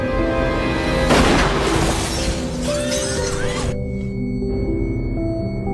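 A film gunshot fired by a sniper from a ventilation shaft, a sudden loud blast with a shattering crash that rings out for a few seconds over a sustained musical score before cutting off.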